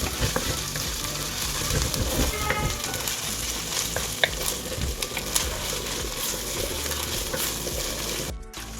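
Ginger garlic paste frying in a pan, a steady close sizzle and crackle with occasional stirring scrapes and clinks, loud and continuous for most of the clip before cutting off near the end.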